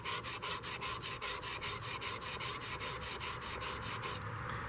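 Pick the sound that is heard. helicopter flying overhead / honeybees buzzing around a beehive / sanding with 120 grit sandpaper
sanding with 120 grit sandpaper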